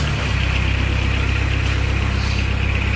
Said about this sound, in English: Now we're going to fire this Kubota to life.